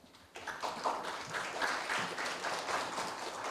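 Applause at a Korea University campus town agreement signing ceremony: a steady wash of clapping hands sustained at moderate level, fairly distant and diffuse, continuing without voices.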